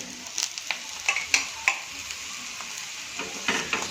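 A thecha paratha fries in oil or butter on a pan over medium heat, giving a steady soft sizzle broken by scattered crackles and light scraping taps, fairly close, with no talking.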